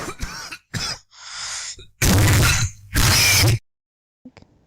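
Harsh, violent coughing in several bursts, some short and rasping, others long and loud, separated by brief silences.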